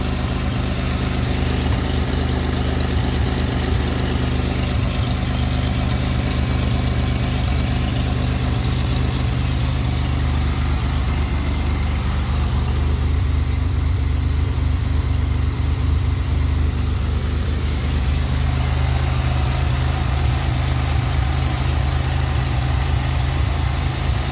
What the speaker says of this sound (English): Definitely still hear an exhaust leak.